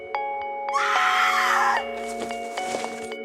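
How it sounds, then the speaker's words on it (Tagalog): A loud, drawn-out scream from a familiar voice at night, a single piercing cry lasting about a second over a sustained tonal music bed, followed by quieter echoing sounds. "Saan galing ang sigaw na yon?"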